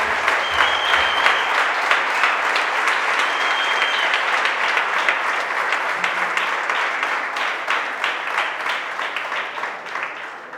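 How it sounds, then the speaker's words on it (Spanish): Loud, sustained applause from a church congregation fills the whole stretch, dense clapping steady throughout with faint voices mixed in, ending slightly softer. "Decimos amén a eso con un fuerte aplauso al"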